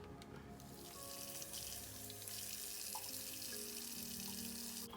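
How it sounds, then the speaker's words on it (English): Running tap water splashes steadily into a sink for several seconds, a continuous close hiss with slight changes as two coffee filters are held under the flow to moisten them. "now I'm going to moisten these 2 coffee filters"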